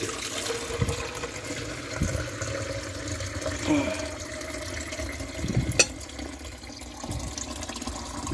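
Water pours and splashes in uneven bursts at close range, with scattered clunks and faint voices in the background.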